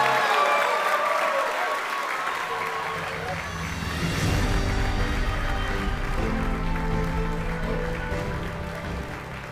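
An audience at an awards ceremony breaks into loud, sustained clapping that swells midway and carries on under a speaking voice.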